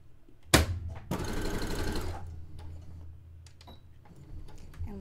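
A sewing machine stitching a zigzag on lace and bed-sheet fabric: a short whirring run of rapid mechanical stitching, close and fairly loud, framed by a sharp knock and soft handling clicks.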